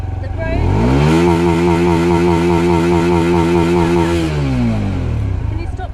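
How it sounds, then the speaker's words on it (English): A motorcycle engine revs up and holds a high, steady roar for several seconds, then winds back down, loud and close. "Now there's another motorbike now on this road"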